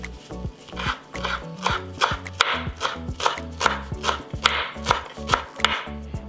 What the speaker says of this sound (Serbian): i onda ću iseckati malo sveže mirođije i malo svežeg peršuna.